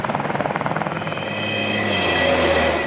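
American military helicopters during a large Swedish military exercise on Gotland, rotor chop pulsing rapidly at first, then merging into a steady, loud engine and rotor roar.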